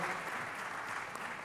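A crowd claps steadily in continuous applause, a dense patter of many hands with no voices standing out.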